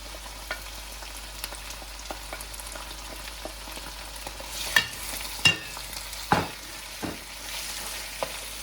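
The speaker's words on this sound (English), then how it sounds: "keep stirring it until the spices are properly mixed" Black chickpeas (kaala chana) stirred with spices in a pan, a low steady frying sizzle broken by a few sharp scrapes and clatters of the spoon against the pan, close up and without talk.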